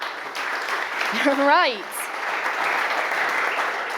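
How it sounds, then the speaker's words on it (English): Applause from an audience at a handball event, a steady wash of clapping throughout with a brief spoken word and a short sung or vocal inflection rising over it. "round of applause for Vid there"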